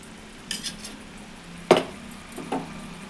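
A ladle scrapes and clinks in a pot of spicy tamarind curry, with a few soft knocks, one sharper scrape and a final tap over a quiet background hum.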